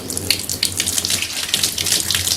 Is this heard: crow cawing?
no